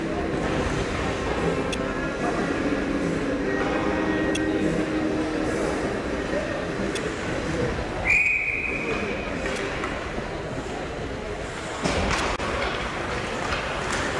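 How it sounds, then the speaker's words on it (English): A referee blows a single short, shrill whistle blast to stop play in a 2012-13 college ice hockey game against Erie McDowell. The whistle cuts through a constant hum of rink and crowd noise, with voices murmuring underneath. "the whistle will stop play with 10:13 to go here in the second"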